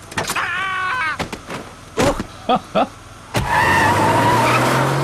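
A car in a Simpsons video game's car-theft mode revs and skids, with squealing tires, sharp impact-like thuds and a rising engine roar near the end, loud and close, mixed with game character voices.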